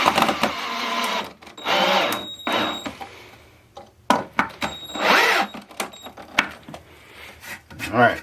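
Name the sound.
power drill screwing a washer/dryer stand together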